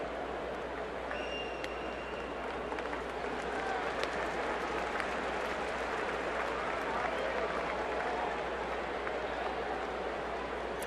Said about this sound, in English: Good crowd on a Wednesday night.